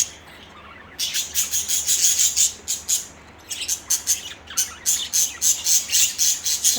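Pet budgies and lovebirds sing indoors in rapid, repeated chirps and squawks, bright and close, continuing in lively bursts with a short quieter gap near the start.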